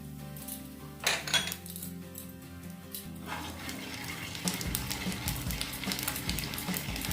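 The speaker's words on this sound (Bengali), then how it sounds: "এবার এই পরিমাণ তেলটা রেখে আমি এতে প্রথমে কালো জিরেটা ফোড়ন দিয়ে দেবো।" Black cumin seeds hit hot oil for tempering: a metallic clatter of pan and utensil first, then a rising crackling sizzle that fills the rest.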